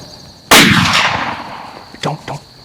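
A rifle fires once, loud and close, during a whitetail deer hunt in Iowa, with a sharp blast that rolls away in a long echo across open country. Two short thumps or voice bursts follow near the end.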